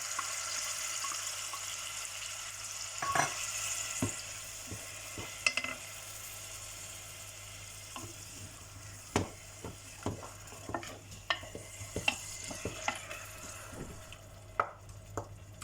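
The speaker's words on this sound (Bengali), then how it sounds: "আমার তেল গরম হয়ে গেছে মানে আমি রসুন আর পেঁয়াজ দিলাম" Garlic and onion frying in hot oil for a fish curry with mango, a soft continuous sizzle broken by scattered spoon clinks and stirring scrapes, fairly quiet and without speech.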